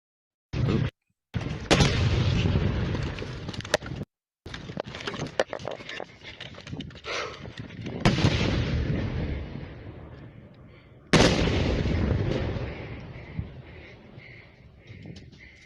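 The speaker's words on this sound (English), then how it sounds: "this is what it's like to be under fire from an American HIMARS missile system" Loud HIMARS rocket strikes land near a trench, each a heavy blast followed by rumble and debris patter, several impacts spread across the stretch with a brief silence between early ones.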